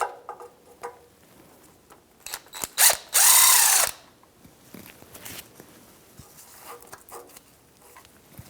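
A ratchet turns a 10mm swivel socket on a Jeep Renegade in scattered clicks and short bursts, with one loud, sustained burst of grinding ratcheting near the middle. The work is close by and no one talks.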